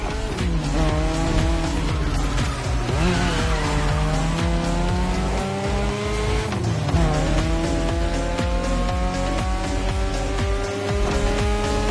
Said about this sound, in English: These turns are sharp. You gotta drift through these, Shingo.